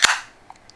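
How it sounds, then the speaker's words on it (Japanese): A can of Ice Draft beer cracks open with a single loud, sharp pssht of escaping gas, close by, then brief faint clicks. "乾杯ということで、まずプシュッとさせていただきます。"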